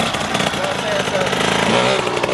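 A KTM 85 two-stroke dirt bike engine buzzes and revs close by, its raspy note rising and falling in short bursts throughout.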